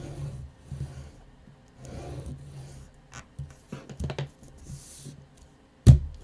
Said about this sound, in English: Burnish this down.